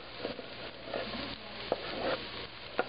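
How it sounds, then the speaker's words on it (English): Garlic fries in a great big pot with a faint, steady sizzle, broken by a few soft stirring scrapes and clicks. "now I am going to add in the garlic"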